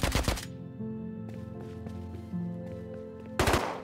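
Suppressed AK rifle fire in the survival game Rust: a tight burst of muffled shots at the start, a quieter stretch with faint clicks and ringing tones, then another short close burst at the end.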